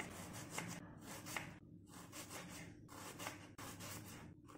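Knife slicing through an onion on a board for street-style veg chowmein: steady rasping strokes repeating about once a second, close and fairly soft, with no talk.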